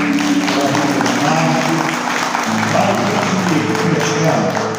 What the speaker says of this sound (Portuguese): Vamos aplaudir o Senhor pela André